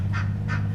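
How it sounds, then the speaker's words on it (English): Two loud, nasal honks from a one-legged duck on a river during a kayak camping trip, evenly spaced and close by, over a steady low hum of background noise. "There's the duck."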